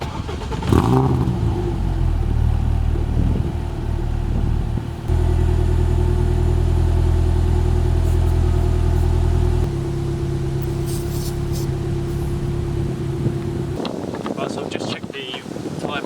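A car engine cranks and catches, then settles into a steady idle hum, with wind buffeting the microphone throughout and a rustle near the end.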